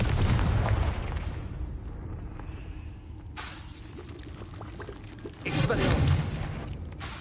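Confringo spell explosions in Hogwarts Legacy on PS5, loud booming blasts with shattering debris that decay into a rumbling tail, then a second burst erupts near the end.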